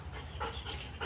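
A Belgian Malinois pants rapidly and lets out brief whimpers, close and fairly loud, with no talk over it.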